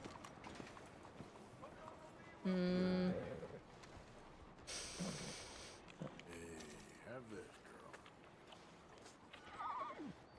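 A horse in the Red Dead Redemption 2 video game gives a short whinny and a few hoof clip-clops amid game ambience, with other farm animal calls nearby and a person talking over it.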